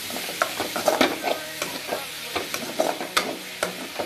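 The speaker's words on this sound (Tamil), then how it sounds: "தக்காளி நல்லா வதங்கட்டுங்க" Tomatoes with salt and turmeric sautéing in a pan for crab masala, a close, steady sizzle with rhythmic stirring scrapes every half second or so, and no voices.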